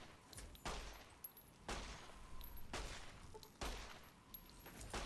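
A gun fires in the video game Fallout, four sharp shots spaced roughly a second apart, each a loud crack with a brief tail over a quiet background.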